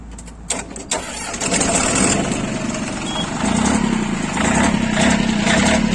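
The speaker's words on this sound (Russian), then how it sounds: "Трактор работает ровно." A Japanese four-wheel-drive mini tractor with power steering and a glow-plug engine cranks with a few clicks, then catches and settles into a loud, steady idle close by.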